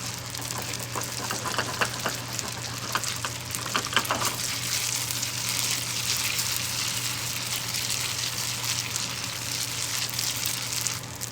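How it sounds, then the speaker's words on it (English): Ricotta gnocchi fry in butter in a non-stick pan that is shaken, giving a steady, close sizzle with brief rattles and stirring noises early on and no talking. "I like to shake the pan as I add the gnocchi anyway."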